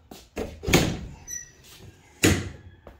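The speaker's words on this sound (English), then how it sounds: "let me open this enclosed trailer up." An enclosed trailer door being opened in a lawn care setup, giving a few loud clanks and rattles, a sharp bang near the start and another later, with shorter knocks between.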